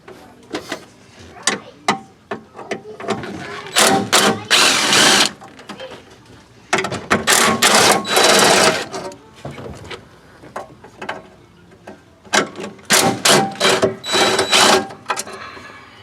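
Mechanic cinching down 10mm bolts on an HSP intake airbox in a Duramax diesel engine bay, with bursts of ratcheting clicks and rattles in several clusters separated by brief pauses.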